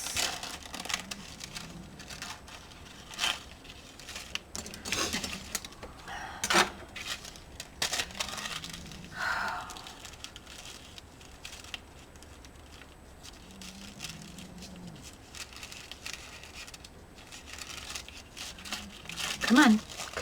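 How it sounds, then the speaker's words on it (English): Paper, such as envelope stock, is torn along a tear ruler in short crinkly bursts and rips scattered through the clip, mixed with handling rustles and light taps, and a voice talks over parts of it. "I'm going to take my little tear ruler, and I'm going to make an attempt to tear this."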